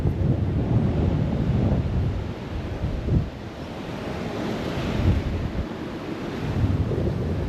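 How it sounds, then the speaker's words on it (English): Ocean surf rolls onto a beach at Aguadilla, Puerto Rico, under strong gusting wind that buffets the microphone in a steady roar, with a few louder wave surges and no talking. "Very windy."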